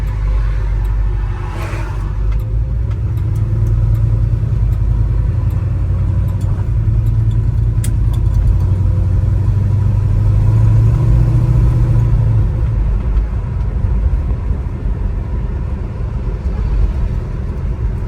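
A 1972 Chevrolet Nova engine idles steadily with a deep, continuous rumble and a slight swell in the middle, close and loud throughout with no talking.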